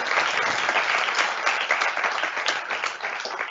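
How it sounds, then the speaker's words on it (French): An audience applauding cofounders, thick continuous clapping from a sizable crowd, loud and even from start to finish with no speech over it. "je propose qu'on les applaudisse eux aussi"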